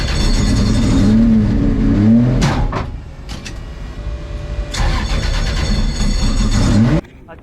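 A car engine cranks and catches in repeated start attempts at a Red Bull car-building event in Belfast, with brief gaps of quieter idle between the louder bursts of cranking and revving; no talk is heard.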